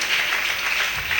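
A church congregation applauding and cheering for Jesus, a dense steady wash of clapping from a large crowd, loud and continuous with no pause.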